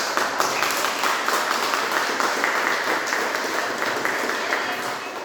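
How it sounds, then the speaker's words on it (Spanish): Church congregation applauding together, a dense, steady wash of clapping filling the room for several seconds with some voices mixed in beneath it. "Démosle un fuerte aplauso."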